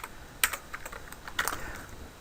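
Keys clack on a computer keyboard as HTML heading code is typed, with two distinct bursts of rapid, crisp taps and scattered lighter keystrokes between them, close and clear with no talking.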